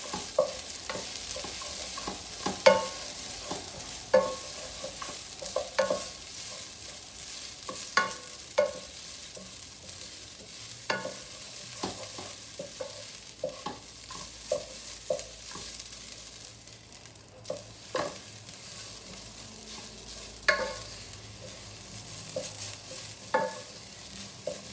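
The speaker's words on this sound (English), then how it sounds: "I parch the rice like about for" Rice is parched in a dry pan for kheer, a soft, steady rustling sizzle broken by repeated sharp scraping and stirring strokes that come in irregular bursts, close and fairly quiet.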